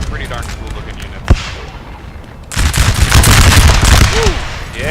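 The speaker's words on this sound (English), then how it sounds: "Prussian lines opening fire on those French. The French, of course, returning the gunshots." Musket volleys crack back and forth between Prussian and French lines in Napoleon Total War, a single sharp report early, then a dense, sustained rattle of massed gunfire with battle noise underneath.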